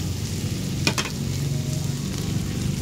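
Onion and garlic frying together in a hot pan, a continuous crackling sizzle with a brief metallic clink of a utensil near the start, no speech.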